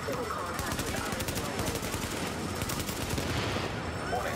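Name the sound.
assault rifle gunfire in a video game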